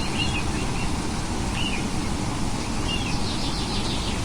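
Birds chirp faintly in the distance, with a few short call bursts over steady rain-like background noise.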